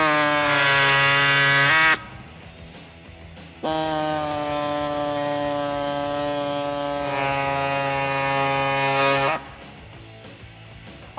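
A power tool trims the end of a plastic fender flare on a 2004–2008 Ford F150, a loud, steady high-pitched whine in two long bursts with a brief pause between them.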